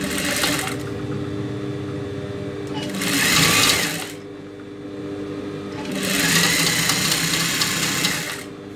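A sewing machine stitches a silk skirt for a two-to-three-year-old child, running in two loud close bursts with a steady mechanical whir in between, with no talk.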